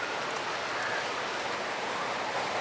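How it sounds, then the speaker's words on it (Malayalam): Rain drizzles outside a large rock shelter at Pandavan Para in Chengannur, a steady even hiss with no break and nothing else heard over it. "പുറത്ത് മഴ ചാറിക്കൊണ്ടിരിക്കുക"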